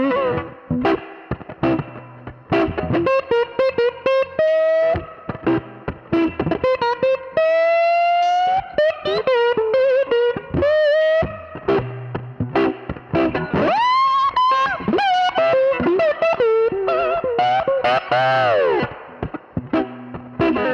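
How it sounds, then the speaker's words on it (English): Heavily distorted electric guitar, a Gibson 61RI SG through a Fender 1966 Vibrolux amp, plays bending, sustained lead phrases broken by short pauses, loud and close. "Kick it up a little bit, you get more distortion."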